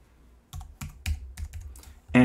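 Several separate keystrokes on a computer keyboard while entering screen resolution settings during an Arch Linux setup, about six close, distinct taps ending in a louder burst with a short tone.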